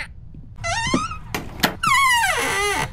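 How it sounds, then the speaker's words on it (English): A creaky door in the horror game Hellseed swings with long, wavering high squeaks, broken by a couple of hard wooden thunks, then one more drawn-out groaning squeak, loud and close with no speech. "there's no reason for that door to be that squeaky"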